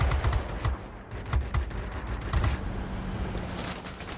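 Aircraft machine guns on a Northrop P-61 Black Widow in World of Warplanes hammer out rapid, loud bursts of fire in quick repeated volleys over a constant engine drone, then ease off into steady flight noise.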